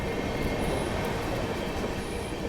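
Inside a Duronto Express passenger train running nonstop from Bangalore to Kolkata, a steady loud rumble of wheels on rails with faint high squeals of the wheels.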